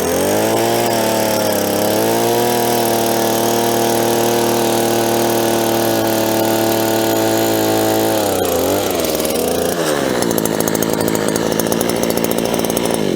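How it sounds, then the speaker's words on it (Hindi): A motorised earth auger runs continuously at high volume while digging a two-to-three-foot pit for planting a tree, its small engine droning steadily, then its pitch dips and it roughens as the load changes near the end. "सबसे पहले मशीन को स्टार्ट किया और इस मशीन को आप चलाओगे तो ये 2 से 3 फीट का गड्ढा खोदेगा"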